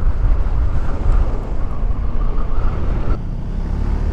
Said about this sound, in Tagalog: Sarap pagmotor dito.